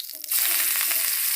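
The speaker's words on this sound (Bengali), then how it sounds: "তাহলে মাংসটা কড়াই দিয়ে দাও।" Meat hits a hot pan for biryani and erupts into a loud, close, continuous sizzle of frying that starts abruptly and holds steady to the end.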